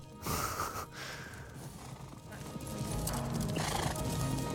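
A horse in a film scene whinnies and snorts as its hooves clip-clop, the neigh loud at the start and the hoofbeats continuing behind faint voices.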